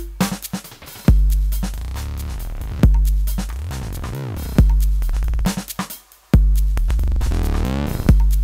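A synthetic tone runs through a modulated delay built in Bitwig's Grid that stutters and wobbles, its pitch sliding up and down in glitchy bursts, with abrupt jumps every second or two.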